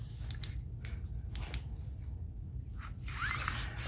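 Plastic bag being cut around a comic book with scissors, several quick snips and crinkles close by over a low steady hum, without talking.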